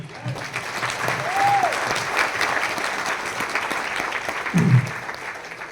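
Audience at a hotel business seminar applauds in a dense, sustained wash of clapping that holds steady for several seconds, with faint voices beneath and a brief low thump near the end.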